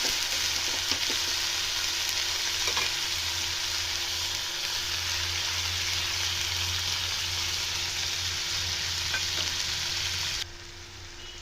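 Ground spice paste hitting hot oil for a whole green moong dal tadka, a steady, close, bright sizzle of frying that holds continuously, with occasional stirring scrapes and no talking.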